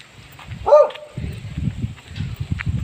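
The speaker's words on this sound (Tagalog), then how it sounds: "Ano, may aso. Tahol ng tahol." A single loud dog bark sounds close by, followed by low rumbling and shuffling noises.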